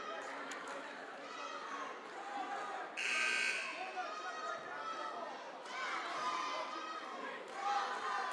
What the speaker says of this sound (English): First buzzer.